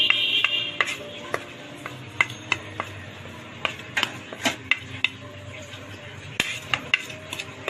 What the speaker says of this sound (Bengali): আমি এখন এগুলো এখানে মিশিয়ে নিচ্ছি